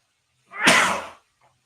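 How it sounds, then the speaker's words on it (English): A single loud sneeze from a man, sharp and close, with a short faint breath afterward. "I'm about to sneeze."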